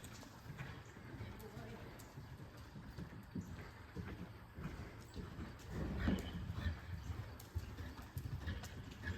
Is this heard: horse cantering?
yes